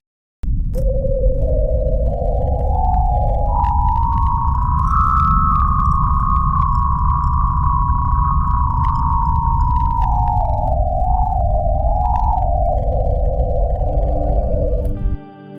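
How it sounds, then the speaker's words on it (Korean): Natural radio emissions from Venus's upper ionosphere, captured by the Parker Solar Probe, render as a smooth eerie tone that slowly rises, holds, then glides back down over a low hum, steady and alone. "이 소리는 파커호가 우리에게 보내온 금성 상부 전리층의 실제 소리입니다."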